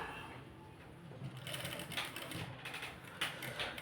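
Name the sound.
sewing machine stitching a blouse sleeve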